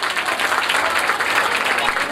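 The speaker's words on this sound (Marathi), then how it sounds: "जरा जोरदार टाळ्या वाजल्या पाहिजे" A crowd at a live stage event breaks into loud, continuous applause, dense clapping that fills the whole moment with no voice standing out.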